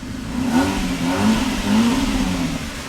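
A car engine revs three times in a row with the exhaust cutout valve closed, each muffled rise and fall close by and fairly loud, with no talking.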